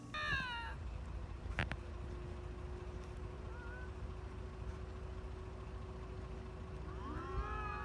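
A pair of rare lynx cats yowl at each other on a roadside, drawn-out wavering cries at the start and again near the end, with a sharp sound in between and a steady low road hum underneath.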